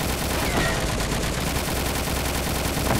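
Dense, continuous gunfire in the side-scrolling combat game Cortex Command, a loud rapid barrage of overlapping shots with no pause.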